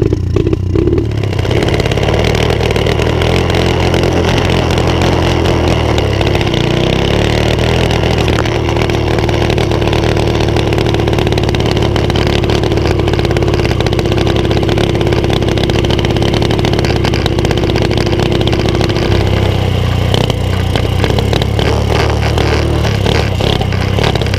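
A motorcycle engine with an overly rich carburettor runs loudly and steadily close by, a rough idle with clattery texture whose pitch shifts slightly midway and rises again near the end.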